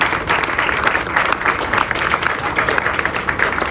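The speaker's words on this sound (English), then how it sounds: "we give a round of applause for Chris and his team" Sustained applause from an audience at a Rhode Island state electric vehicle infrastructure event, steady and dense clapping throughout with a faint crowd murmur underneath.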